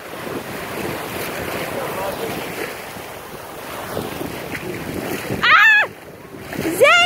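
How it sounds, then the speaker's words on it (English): Ocean waves washing onto a beach with steady surf hiss and wind buffeting the microphone; near the end a child squeals excitedly twice over the water noise. "Zane, what's the waves doing?"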